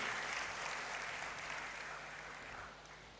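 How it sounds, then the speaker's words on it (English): A graduation ceremony audience in a great hall gives a sustained round of applause, steady dense clapping at moderate distance that tapers slightly toward the end. "Let's give him a round of applause."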